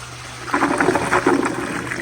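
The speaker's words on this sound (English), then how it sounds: "But here's another flush." A 1992 ADA URC Apollo toilet flushes, starting with a click and then a surging rush of water that swirls and gurgles close by for well over a second.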